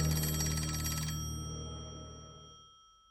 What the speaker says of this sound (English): the phone began to ring again